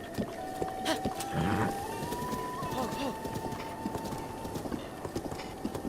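Epona, a horse in the video game The Legend of Zelda: Breath of the Wild, trotting along a road with a steady run of hoof clip-clops under a sustained tonal game sound, while a person talks over it.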